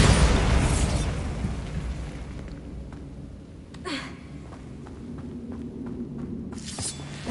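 Bombarda explosion spell in the Hogwarts Legacy video game, a booming blast that decays into a long rumbling tail, followed by a few smaller pops and crackles.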